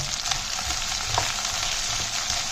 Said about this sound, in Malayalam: ആദ്യം നമുക്ക് ഈ വെണ്ടയ്ക്ക ഇതിനകത്തിലോട്ടിട്ട് നന്നായിട്ടൊന്ന് മൂപ്പിച്ചെടുക്കാം